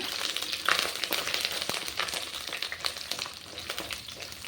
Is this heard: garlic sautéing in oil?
yes